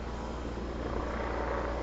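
A helicopter flying overhead near a house where cement work is going on, a steady loud low rotor and engine drone that holds constant throughout, with no talking.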